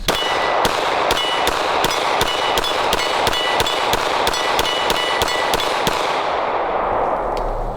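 Rapid string of Glock 17 pistol shots fired at targets, about fifteen sharp loud cracks in quick steady rhythm with ringing metallic impacts, then a short quiet tail with no talk.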